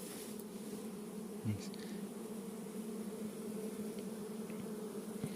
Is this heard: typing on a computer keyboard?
no